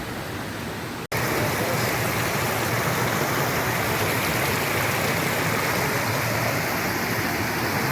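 Water flows in a stream below the hills at Bhivapur Lake near Amravati. It makes a steady broadband rush, loud and close, after a brief quieter opening and a short break.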